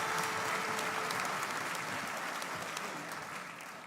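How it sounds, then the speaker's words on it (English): Steady, dense audience applause for a troupe of step dancers at a Celtic Colours concert, loud and even at first and then tapering slowly. "Big round of applause for those girls."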